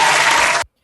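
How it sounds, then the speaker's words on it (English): A single burst of hand clapping, loud and close, lasting just over half a second and then cutting off into silence. "Let me go on and give a clap on that."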